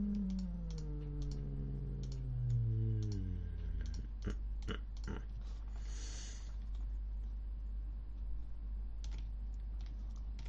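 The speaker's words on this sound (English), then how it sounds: "Keyboard." Computer keyboard typing during a digital art drawing session, a steady run of light, close key clicks in irregular bursts over a low background hum, with no talking.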